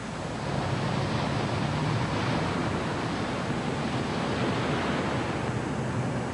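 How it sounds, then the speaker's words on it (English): Strong ocean waves roll and wash in a continuous broadband roar out at sea during a whale rescue, steady and fairly loud with wind buffeting mixed in and no voices. "The waves were getting really strong."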